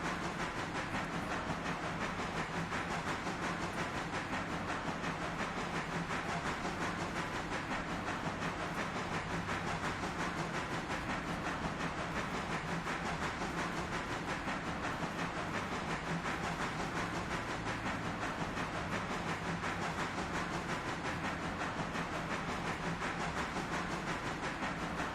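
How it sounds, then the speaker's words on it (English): An in-game steam locomotive in the train game Railroader puffs steadily with a hissing, chuffing rhythm for the whole stretch, a dense continuous sound with no talk over it. "Puffing from the in-game sound is overpowering the music."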